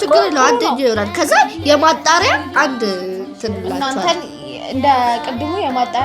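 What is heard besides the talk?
None of the usual background noises is heard.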